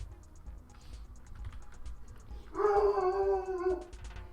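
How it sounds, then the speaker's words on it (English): A household dog lets out one drawn-out, wavering howl or whine partway through, fairly close and loud, over steady computer keyboard typing that runs throughout. "Forgive the dogs, they like to bark a lot."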